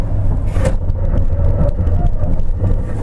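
A 2015 Toyota Tundra TRD Pro pickup during a brake test from 40 mph on a track, steady loud road and engine rumble heard from inside the cab, continuous without clear breaks.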